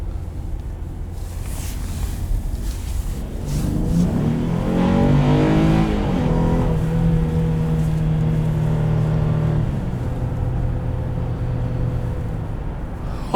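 A 2021 Honda Ridgeline Sport engine accelerates, its note rising through the revs, then shifts and settles into a steady drone under loud wind and road noise from inside the cabin.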